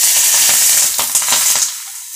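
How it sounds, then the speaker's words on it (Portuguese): Boiling oil poured over cabbage for an oriental-style dish sizzles loudly and hisses with crackling pops, then quickly fades away. "a hora que o óleo estiver fervendo, eu já vou jogar em cima desse repolho"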